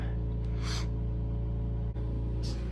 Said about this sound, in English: Sorry if my nose sniffing is annoying.